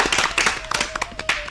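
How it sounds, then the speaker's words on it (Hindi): An audience claps for a student after she recites a poem at a school children's programme, a burst of fairly close, brisk hand claps lasting the whole moment with no talk over it. "इनके लिए फिर से एक बार तालियां।"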